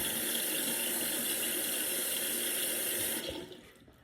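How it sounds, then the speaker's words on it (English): Tap water runs steadily into a bathroom sink while someone rinses their face, a close, continuous hiss and splash that cuts off near the end and leaves a quiet room. "I'm gonna rinse this off."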